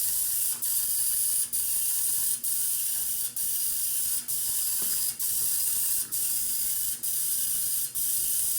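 A screwdriver rattles in the tank of a pro ultrasonic cleaner during a carburetor cleaning test, a steady hiss broken by regular clicking pulses roughly once a second, repeating evenly throughout.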